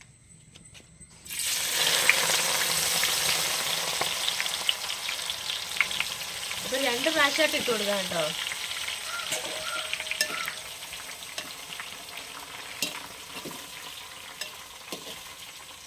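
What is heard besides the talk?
jackfruit pieces frying in coconut oil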